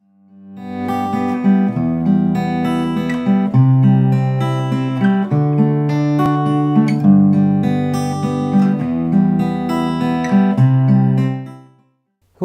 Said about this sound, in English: What you just heard there was an example of a waltzy 3/4 fingerstyle pattern